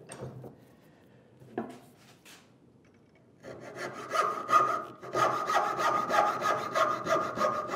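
A hand saw cuts through wood in a quiet workshop, starting with a few tentative strokes and then settling into steady, rhythmic rasping back-and-forth strokes, close and clear.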